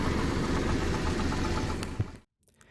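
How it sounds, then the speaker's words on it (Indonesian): A Daihatsu Espass engine idles rough on a morning warm-up, its rocker arms ticking in a fast steady patter under a loud mechanical drone that cuts out abruptly near the end. "mendengar suara tek tek tek tek tek tek tek tek itu dari rotak ya teman-teman"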